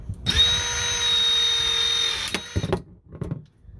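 A Milwaukee Force Logic battery crimper cuts steel-core ACSR aluminum wire: a steady whining motor drone runs for about two seconds, ending in one sharp, loud snap as the cut breaks through, followed by a few quieter clicks.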